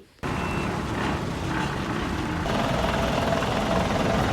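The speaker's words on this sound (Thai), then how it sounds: "นี่ไงคะรถขยะที่ไปเก็บขยะที่บ้านเมื่อกี้" A Japanese garbage truck on a collection round gives steady, repeated reversing beeps over the loud rumble of its idling engine, heard up close outdoors.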